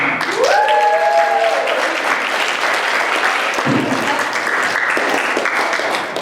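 An audience claps steadily through the whole stretch at a vacation Bible school presentation, loud and sustained, with a rising musical tone briefly sounding early on.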